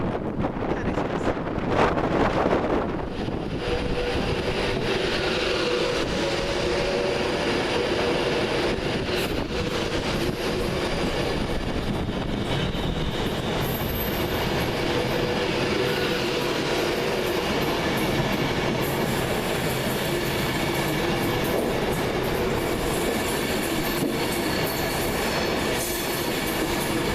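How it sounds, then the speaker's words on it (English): Virgin Trains West Coast passenger service from Glasgow Central to London Euston passes at Carlisle, a loud continuous rumble and rush with wheel clatter and wind buffeting on the microphone throughout. "1247 Virgin Trains West Coast service from Glasgow Central to London Euston."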